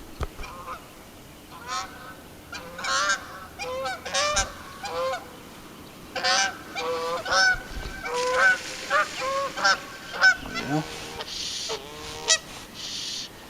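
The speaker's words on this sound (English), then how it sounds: "Well, here come the geese." Geese honk repeatedly in overlapping bursts, a noisy flock calling back and forth at close to moderate distance.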